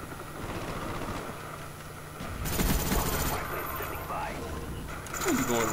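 Bursts of rapid video game gunfire with mechanical clatter, loudest in a couple of strong volleys, over a busy background where a player talks.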